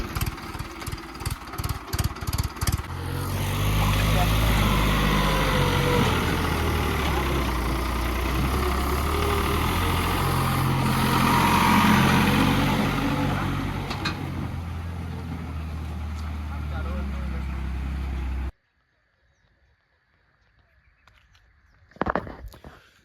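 A heavy sugarcane harvester engine runs loudly and steadily after a few sputtering starts, then cuts out abruptly, leaving near silence and a few faint knocks.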